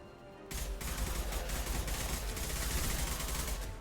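Sustained automatic gunfire in the Mass Effect 2 video game, loud and dense after a short quiet lead-in, a continuous rattling burst of shots with no talk over it.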